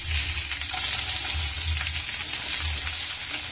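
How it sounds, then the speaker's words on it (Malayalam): Onions fry in a pan for chapati chivda, making a continuous close sizzle with low scraping stir sounds pulsing underneath, and no voices. "ഇനി ഉള്ളി ഇടാം"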